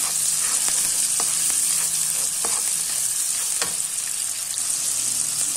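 Garlic, onion, tomato and chili sauté in a pan, giving off a loud, steady, close sizzle. A few sharp utensil scrapes and taps break through the frying, and no one speaks.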